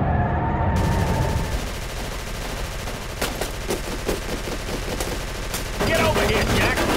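Gunfire rattles through a Call of Cthulhu: Dark Corners of the Earth game scene as a steady stream of sharp shots and bursts over a dense, noisy background, loud and continuous throughout.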